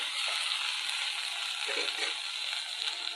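Okra pieces cook in a pan over a medium flame, giving a continuous, even hiss of sizzling oil with a few faint stirring scrapes and no talking.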